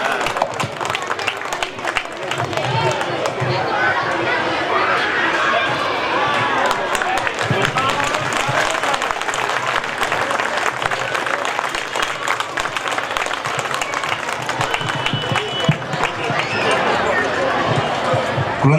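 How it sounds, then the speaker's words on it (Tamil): An audience claps for a child at a nursery and primary school annual day program: steady, crowded applause fills the hall throughout, mixed with background chatter and occasional louder claps. "எல்லாரும் ஜோரா கைத்தட்டணும் அந்த குழந்தைக்கு."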